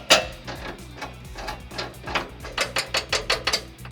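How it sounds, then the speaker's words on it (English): Carriage bolt and flange nut being fitted during a trailer hitch install on a 1995-2004 Toyota Tacoma, giving a run of quick, evenly spaced metallic ratcheting clicks that speed up toward the end, close and moderately loud. "You can now install your carriage bolt, carriage block, and the flange nut"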